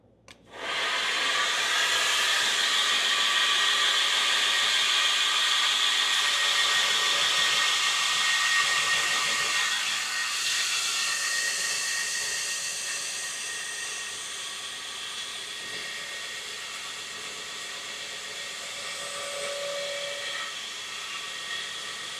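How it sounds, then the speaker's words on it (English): Grinder working metal in a blacksmith shop, a loud sustained high whine and hiss starting abruptly and running on for about twenty seconds, easing slightly midway and swelling again near the end. "let's grind this thing."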